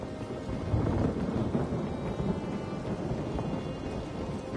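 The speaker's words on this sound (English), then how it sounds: "I love in-game thunderstorms." A thunderstorm in the video game Elder Scrolls Online: steady, loud rain hiss with deep rolling thunder rumbling throughout, continuous with no talking.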